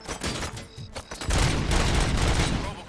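Gunfire in the video game RoboCop: Rogue City comes as a dense, loud volley of shots layered over game sound and rolls on without a break after a brief scattered opening.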